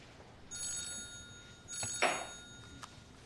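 A telephone rings indoors in two short electronic trill bursts, fairly faint and close, with a brief clatter between them and no talk.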